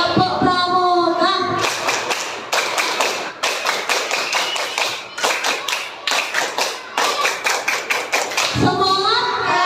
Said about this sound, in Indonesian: Oke, sekarang coba kita tepuk pramuka